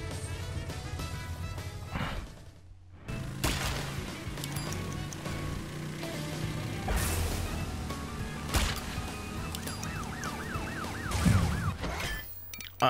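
In Crash Bandicoot 3: Warped (N.Sane Trilogy), a police car siren wails over busy game music and effects, with a warbling rise-and-fall near the end and crash and smash sounds mixed in.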